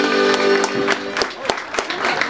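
Audience applause at an evening chamamé concert, a crowd clapping that fades into a few scattered claps, with a voice speaking over the start.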